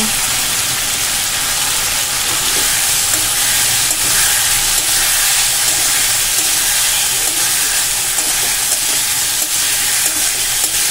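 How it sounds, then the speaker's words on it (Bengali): Strips of paneer fry in a pan over medium flame, giving a loud, continuous sizzle with faint scraping from stirring throughout. "পনিরগুলো 2 মিনিট আমি নাড়াচাড়া করে নেব মিডিয়াম ফ্লেমে রেখে"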